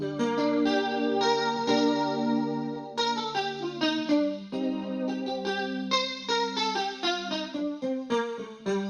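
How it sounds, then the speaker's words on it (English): Plucked acoustic-style guitar notes from the Ample Guitar SH virtual instrument plugin ring out in a melodic pattern, washed with chorus and shimmering effects, no voices. "My favorite guitar plugin is the Ample Guitar SH, and that sounds like this with a few effects on it"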